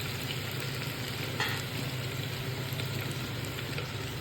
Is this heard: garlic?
yes